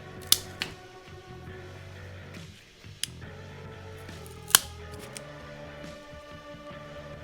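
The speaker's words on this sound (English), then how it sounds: "snip the old wire" Scissors snip old wire during electrical repair on a Honda Goldwing motorcycle, giving a few sharp, isolated clicks near the mic over a low steady background hum.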